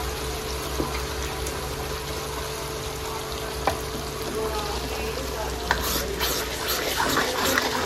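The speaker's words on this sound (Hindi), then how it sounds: "और उसके बाद डालेंगे टमाटर ग्रेवी" Tomato gravy added to browned onion puree in a pan for a soya chaap curry, giving a soft, steady sizzle with faint stirring clicks scattered through.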